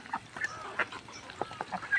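Chinese ducks on a farm feed while giving short, faint quacks and honks, scattered irregularly across a brief quiet stretch with no talking.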